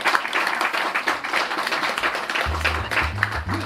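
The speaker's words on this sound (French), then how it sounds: "On peut vous applaudir bien fort" Applause from an audience at the general assembly of a social centre in Arras, a dense, steady clatter of many hands filling the room throughout, with a low voice briefly heard toward the end.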